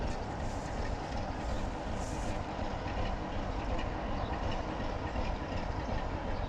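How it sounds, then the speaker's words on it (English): A low, steady rumble of rail activity drifts in from Cheddleton Station and railway yard, heard from a canal boat, dense and continuous with faint clatter, no voices. "We've stopped outside a railway yard."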